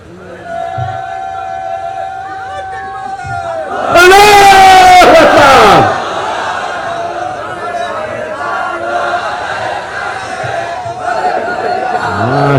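A crowd at a rally bursts into a loud, shouted slogan chant lasting about two seconds, surrounded by a speaker's voice and general crowd murmur before and after.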